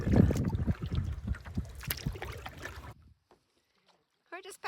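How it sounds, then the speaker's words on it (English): Paddles stroke through the water as a canoe crosses a lake, close splashes and knocks with a voice talking over them, then near silence before a brief return of sound. "We're just paddling along through McEwan."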